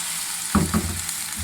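Chilli chicken with soy sauce and vinegar fries loudly in a pan, with a sudden burst of sizzling and a quick shake or stir, close and steady.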